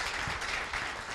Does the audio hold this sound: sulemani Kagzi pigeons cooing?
no